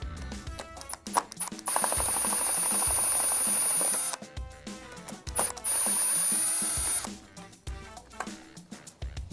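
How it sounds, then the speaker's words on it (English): An impact drill with a Phillips bit on its lowest setting backs a screw out of an Aeron Classic office chair, with two sustained whirring bursts broken by short rattling clicks and handling noise, close up. "So I have a Phillips bit on the impact drill on the lowest setting. I'm just going to come in here and remove this screw."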